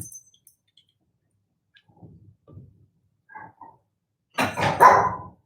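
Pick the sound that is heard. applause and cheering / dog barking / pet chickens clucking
dog barking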